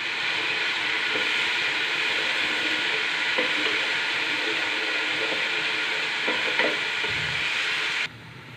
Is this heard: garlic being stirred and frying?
yes